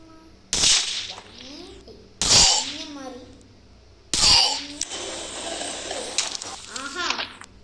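Three sharp sniper rifle shots in a video game, spaced about two seconds apart, each a loud crack with a short ringing tail, the last followed by a longer rumbling decay.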